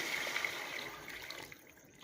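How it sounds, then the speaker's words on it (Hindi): Two liters of water pour into a cooking pot of fried chickpeas for chana pulao, a steady close splashing gush that tapers slightly toward the end, with no talk over it. "तो अब हम इसमें पानी डालेंगे। 2 लीटर ये पानी है।"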